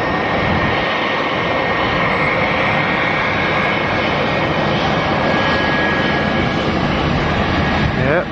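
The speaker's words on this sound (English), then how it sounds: "We got this Delta Connection Canadian Regional Jet landing on runway" Delta Connection Canadian Regional Jet landing on a runway at Atlanta airport, a steady loud broadband jet roar filling the whole stretch, close and continuous without a break.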